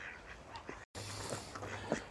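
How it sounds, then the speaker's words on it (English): Ducks gather on a river, a few faint, scattered quacks rising over quiet outdoor background noise, with a brief dropout partway through. "looks like I've been joined by some of my armada of ducks"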